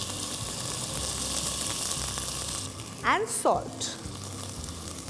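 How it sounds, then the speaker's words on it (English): Sweet corn kernels fried with cumin and spices in a pan give a steady, fairly loud hiss and sizzle that eases midway, and a short spoken remark cuts in over the cooking. "I'm going to add the sweet corn kernels to this"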